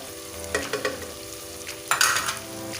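Red chilli, turmeric and coriander powder fry in a pan with cooked-down onions for a tori sabzi, giving a soft steady sizzle broken by a few brief stirring scrapes, close and alone.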